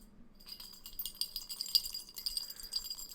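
A few metal bottle caps rattle and clink inside a drinking glass, played live by hand as a Foley effect: quiet, close, irregular tinkling with sharp clicks, alone with no talk.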